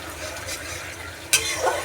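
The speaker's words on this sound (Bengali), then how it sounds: "মশলাটাকে একটু ভাজা ভাজা করতে হবে" Ground spices with turmeric fry in hot oil in a pan and are stirred, giving a steady soft sizzle with a sharp scrape of the spoon partway through.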